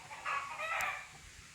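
A native pure-breed chicken on a farm near Madurai gives a single short crowing call, fairly close, against quiet open-air background.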